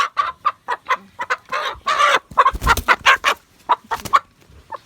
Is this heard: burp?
no